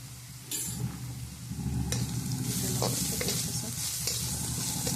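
Red chili, onion, garlic and masala are sautéed for a matki curry, a close sizzle that swells after a sharp start, with stirring scrapes over steady frying and no voices.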